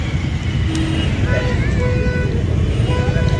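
Steady road traffic rumbles at a closed railway crossing at Shivpur, with several short horn toots sounding over the continuous engine din, some nearer and some farther off.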